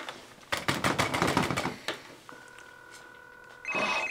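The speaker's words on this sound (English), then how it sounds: "My phone is ringing when I call your boss." A telephone rings twice in a short electronic trill after a burst of clattering, typewriter-like taps; the rings are moderately loud and close, with no talk.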